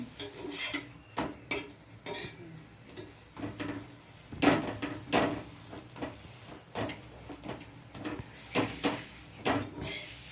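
Chana dal fries in a little oil in a pan, giving a soft sizzle under repeated scraping and clinking of a spatula. The stirring knocks are irregular and close, with faint background noise and no talk.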